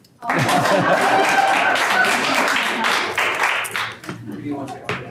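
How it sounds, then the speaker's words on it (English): An audience at a city council meeting breaks into loud, dense clapping that holds steady for several seconds, then thins into scattered claps with light laughter. "Where's my clapping?"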